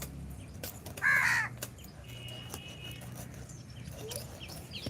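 A single loud caw from a crow rings out briefly amid quiet outdoor background noise.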